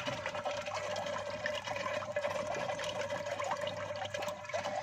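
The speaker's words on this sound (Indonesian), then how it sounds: "kita buka stop kerangnya suaranya sudah ada dan gelembung-gelembung udaranya juga sudah ada" A homemade venturi on a hydroponic pump pushes water and air bubbles through in a continuous rushing, gurgling flow with a steady hum underneath, fairly loud and with no voices.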